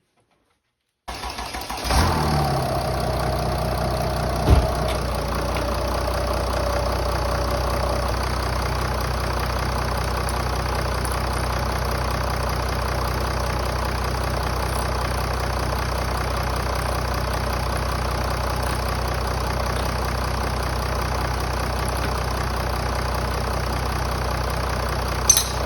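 An Iveco Daily diesel van engine cranks and catches, then settles into a steady, close idle that runs unbroken while it warms up, with a brief rev early on.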